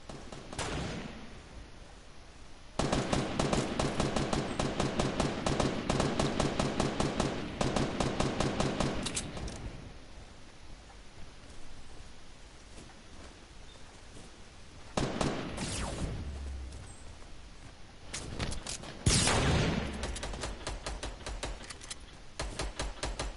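Rapid automatic gunfire in the Fortnite Battle Royale video game, long sustained bursts of crackling shots with brief pauses between volleys, fairly distant and steady, with a sharper closer burst near the end.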